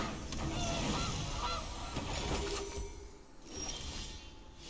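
A goose honk effect sounds as a Goose card is cast in a card video game, loud honking bursts over game sound effects, fading near the end.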